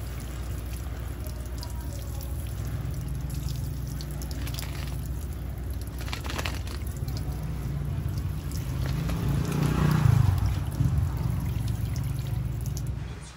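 Rainwater pours and trickles steadily onto the soil and leaves of a potted rubber tree, swelling a little louder partway through before easing off, with no voices.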